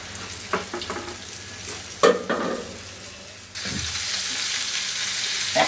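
Flour-coated chicken pieces fry in a pan over medium heat, a steady sizzle broken by a few clacks and bumps and then turning into a louder, continuous crackle partway through.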